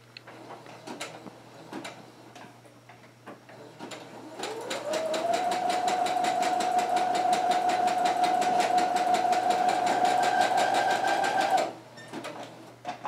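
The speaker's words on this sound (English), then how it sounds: "place the felt in the sewing machine, and you want to keep the felt kind of tight, so gently pull in all directions as you sew." A sewing machine stitches through taut felt, its motor whirring up to a steady fast run with rapid needle ticking for about seven seconds, then stopping, with quieter handling sounds before and after.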